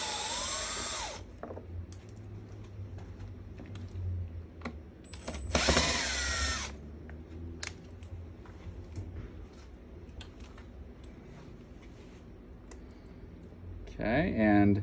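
Screws being backed out of the swells on a saddle during a bucking roll installation, heard as bursts of power drill whine with clicking in between, fairly close, with speech around it.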